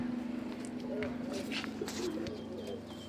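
Pigeons coo softly in a loft, low throaty calls repeating under a steady background hum with a few faint chirps.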